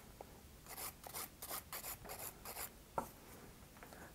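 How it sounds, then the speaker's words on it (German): A hand file rasps along a gel or acrylic fingernail in about seven short, quiet strokes at a steady pace, each a soft scratchy swipe, followed by a faint tap and nobody speaking. "dann feile ich einfach vorsichtig mit der Feile hier entlang"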